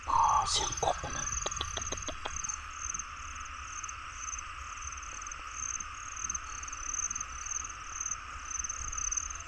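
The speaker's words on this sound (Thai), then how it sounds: "เสียงกบนะ" Frogs croaking at night in a rural rice field, a steady chorus of calls blending with continuous high insect trilling, with a brief burst of clicking near the start and no talk.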